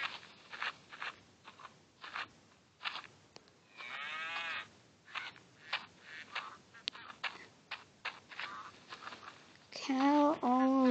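A lone cow moos near the end with a loud, drawn-out low call, preceded by sporadic crunching and clicking sounds and brief bursts of noise.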